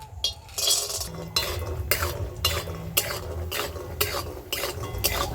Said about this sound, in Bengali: আমি এই বড়ি নিয়েছি বড়িগুলো ভেজে নেব